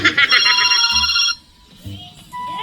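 A phone ringtone sounds for an incoming call, loud and repeating for about a second before cutting off, then a softer tone returns near the end while people talk nearby.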